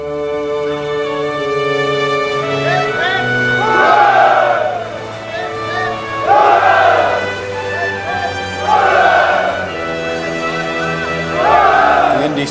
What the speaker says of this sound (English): He's cheering us, sir.